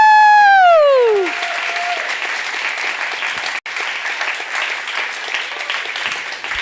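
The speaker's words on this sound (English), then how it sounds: "One more round of applause for the winning team!" At a food sovereignty conference, a loud falling vocal whoop opens before a room full of attendees breaks into steady, sustained applause for the winning team, the clapping continuing evenly to the end.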